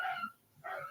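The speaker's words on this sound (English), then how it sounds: "sounds like I'm hearing dogs being seriously beaten" Dogs bark and yelp in two short bursts separated by a brief gap, faint and somewhat distant, with no talk over them.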